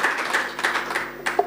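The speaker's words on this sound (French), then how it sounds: "On applaudit tous nos candidats" Audience applause for the finalist candidates at the grand final of an entrepreneurship reality TV show, a steady patter of many hands clapping at moderate volume, with no voices over it.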